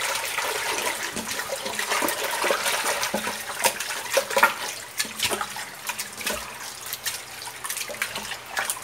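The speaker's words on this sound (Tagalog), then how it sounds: "Banlawan pa natin sa isa pa." Rinsing something in water before pressure cooking, with continuous splashing and sloshing and irregular clattering, steady and close throughout.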